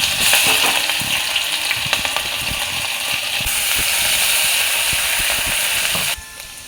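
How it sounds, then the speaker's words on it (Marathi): Mustard seeds and cumin crackle and pop in hot oil as garlic and chili paste are added, a dense, close sizzle with scattered sharp pops that drops off abruptly near the end. "आता हे जिरे मोहरी तडतडली की आपल्याला घालायचं आहे लसूण आणि हे जे मिरचीचं वाटण बनवलं होतं ते घालायचं"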